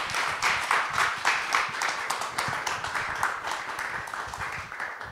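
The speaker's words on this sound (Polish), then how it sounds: "Tymon Tymański. Brawa" An audience at a Gdańsk book meeting applauds author Tymon Tymański, a sustained, fairly even round of clapping from a modest crowd in a room, continuing without pause.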